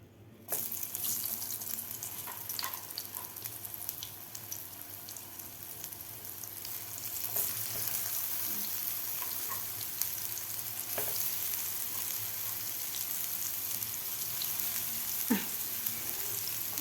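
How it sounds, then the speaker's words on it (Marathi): Soybeans frying in oil in a pan over a medium gas flame, heard as a steady, fairly quiet sizzling hiss with occasional light clicks of stirring and no talking. "मिडियम गॅसवर व्यवस्थित आपल्याला हे फ्राय करून घ्यायचे आहेत"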